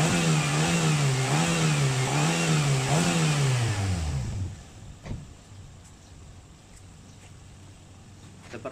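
A car engine runs while the radiator coolant heats up during a compression leak check. It makes a loud, wavering hum for about four seconds, then drops to a much quieter background with a few faint knocks.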